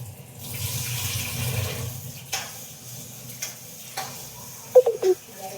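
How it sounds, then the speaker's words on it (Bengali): Vegetables being rubbed and washed by hand in water, a low splashing slosh followed by a few sharp knocks and clatters near the end, no speech. "জলেতে, ভালো করে তাকে চটকে দিই।"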